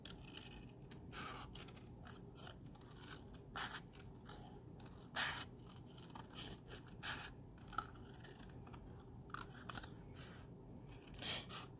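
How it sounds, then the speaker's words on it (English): Scissors fussy-cutting a large stamped flower from cardstock, the paper turned against the blades, giving quiet, irregular snips and scratchy scrapes at close range with no talking. "I'm going to be moving the cardstock and not the scissors"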